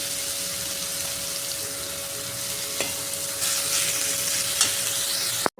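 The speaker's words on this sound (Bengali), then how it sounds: "এবার এইগুলোকে পেঁয়াজের সাথে ভালো করে ভেজে নেবো একটু লবণ আর হলুদ দিয়ে" Pointed gourd seeds and pulp fry with onion, salt and turmeric in a pan, a steady close sizzle broken by a few sharp clinks of stirring, with no talk.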